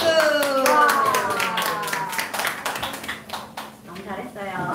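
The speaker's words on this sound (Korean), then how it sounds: "박수!" A congregation claps for a youth group during a church middle and high school worship service: a burst of clapping that thins into scattered claps, with a voice talking over it.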